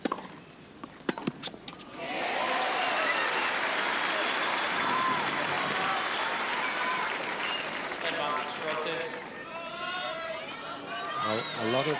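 A tennis crowd at a 1999 Henman versus Rosset match breaks into loud, sustained applause and cheering for Rosset, a dense roar lasting about ten seconds, with a commentator's voice over it near the end.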